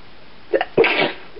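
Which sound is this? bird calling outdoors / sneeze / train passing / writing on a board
sneeze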